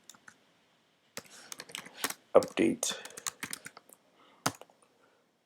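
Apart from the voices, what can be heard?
typing a command on a computer keyboard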